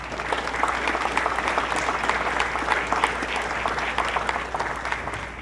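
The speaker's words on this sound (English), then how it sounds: "Can we give him a round of applause, sir?" An audience applauds steadily at a retirement ceremony for Rufus Jackson, a dense sustained clapping that stays fairly loud and even throughout without any talk over it.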